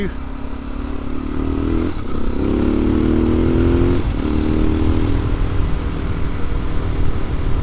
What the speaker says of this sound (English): you can hear it, the engine now, it doesn't run well